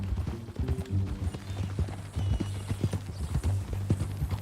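Horse hooves clip-clopping at a steady walking gait in Red Dead Redemption 2, a close, even run of hollow knocks over a low rumbling game background.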